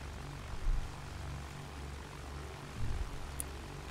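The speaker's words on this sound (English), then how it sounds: "I'm in a plane" Propeller airplane engine in the Battlefield 1 beta, a low, steady droning rumble that swells briefly twice, fairly quiet and without talk.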